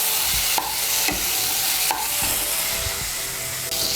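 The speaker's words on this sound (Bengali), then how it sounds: "আলুটাকে মশলার সঙ্গে ভালো করে মিশিয়ে নিয়ে আলুটাকেও আর একটু ভেজে নেব।" Boiled potato pieces fry with spices in a pan while being stirred, with rhythmic scraping strokes repeating about every second over a steady, bright sizzle and no talking.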